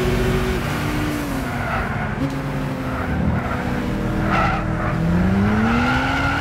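Race car tires squealing in Gran Turismo as the car climbs a hill in third gear, with a steady engine drone under long rising and falling squeals, loud and close, with no talking.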